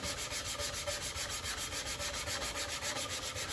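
Sandpaper, working toward 120 grit, rubbed by hand over a wooden wine bottle holder in fast, even back-and-forth strokes, a close rhythmic scratchy rasp repeating steadily throughout.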